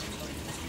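Water runs steadily from a tap in a short, continuous hissing rush, close and fairly loud, with no voices.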